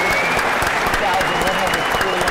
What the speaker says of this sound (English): Guys, you should be clapping for yourselves.